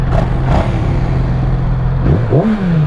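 A 2021 Yamaha MT-07 motorcycle on its quiet stock exhaust idles steadily up close, then gives a short, quick rev near the end that rises and settles.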